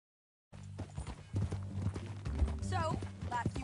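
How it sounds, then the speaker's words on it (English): Horse hooves clip-clop steadily in the Red Dead Redemption 2 video game, close and fairly loud, mixed with music and other game sounds. "That a new horse?"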